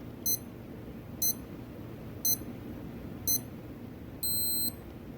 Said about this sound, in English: It's a notification that the timer is about to elapse.